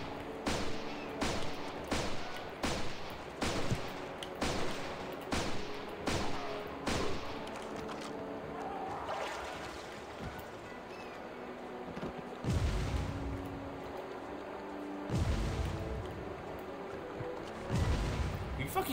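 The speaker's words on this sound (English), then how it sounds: "let me use my grenades to, like, actual, like, full effect" Grenade blasts in the first-person shooter Turok Evolution: a rapid run of sharp, booming detonations early on, then a quieter rumbling lull before a few more heavy thumping explosions near the end.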